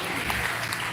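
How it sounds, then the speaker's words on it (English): Audience applause at a World's Scholar Cup regional round, a broad, steady wash of clapping filling the hall at a constant level with no break. "Give yourself a big round of applause."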